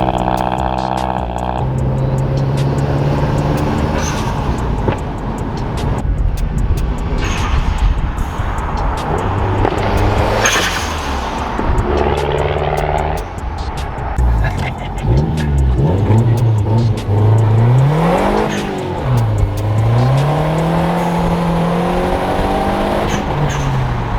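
A Mazdaspeed 3 being rebuilt is started just after an oil change and revved, its engine rising and falling through several loud, close revs with a steady idle between them.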